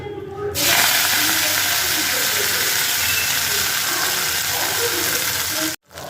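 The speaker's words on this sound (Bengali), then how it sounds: "এখান থেকে চিপে চিপে মুলো শাকটা তেলের মধ্যে দিয়ে দেব" Salted, squeezed radish greens drop into hot oil and set off a sudden loud, broad sizzle that holds steady for several seconds before cutting off.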